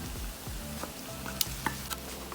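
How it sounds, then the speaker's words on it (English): Eggs go into a hot pan of stir-fried glass noodles with minced pork, with a low steady sizzle and a few soft clicks and scrapes close by. There is no talk. "Last but not least, I'm gonna add my eggs."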